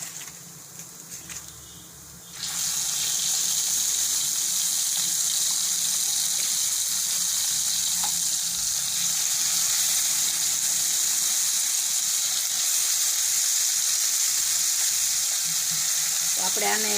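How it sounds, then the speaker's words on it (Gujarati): Stuffed brinjals hit hot oil tempered with cumin and ginger, setting off a sudden loud, dense sizzle that holds steady and close for the rest of the clip after a quieter opening with light clatter. "હવે આપણે આ શાક છે એ નાખી દેવું અંદર."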